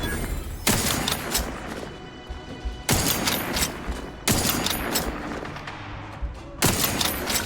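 Bursts of gunfire in The Outer Worlds 2 come as three or four loud, dense volleys of rapid shots, each slamming in suddenly and trailing off, with quieter gaps between.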